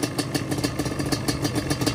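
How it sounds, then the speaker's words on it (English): A Yamaha ATV engine idles with a quick, even mechanical pulse and light clatter, steady and close, with no voices over it. "That's how it should be idling."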